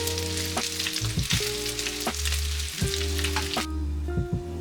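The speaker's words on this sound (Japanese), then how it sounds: "しっかりね、ここで、焼き色をつけて炒めていきます。" Pieces of lamb sear and fry in a pan for a spring lamb stew, giving a loud, steady sizzle with irregular crackles over a low, constant hum.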